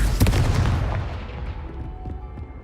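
Confringo fire-blast spell cast in the Hogwarts Legacy video game: a loud, booming explosive burst at the start that rolls off into a decaying rumble and crackle, heard alone.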